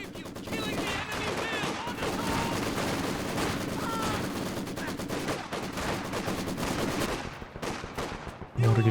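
Maxim machine gun fire in the Company of Heroes 2 strategy game, dense overlapping bursts and shots running steadily throughout a busy battle mix with speech mixed in.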